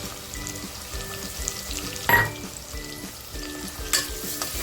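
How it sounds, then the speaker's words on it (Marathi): Garlic paste fries in a pan with a steady, close sizzle and crackle, broken by a couple of sharper spatters and stirring scrapes, with no talking. "लसूण पेस्ट जी केलेली मी ती टाकते"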